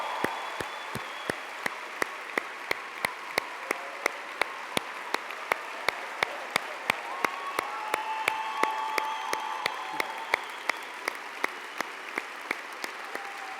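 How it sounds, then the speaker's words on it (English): An audience at a One Young World gathering applauds President Bill Clinton with steady, sustained clapping that fills the whole stretch, many hands at once with no voices over it. "Please give a huge round of applause to President Bill Clinton."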